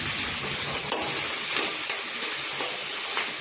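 Curry leaves crackle and fry in hot oil, a loud continuous hiss with several brief spitting bursts and stirring scrapes.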